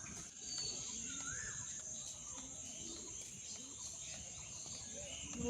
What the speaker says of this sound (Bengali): চারদিকে ঘুঘু ডাকতেছে, পাখি ডাকতেছে